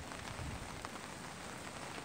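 Steady oily rain patters on a surface in freezing, windy weather in Canberra, Australia, a faint, even wash of drops with no voices.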